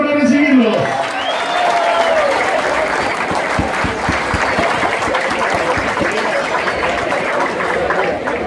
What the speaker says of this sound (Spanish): fuerte el aplauso para recibirlo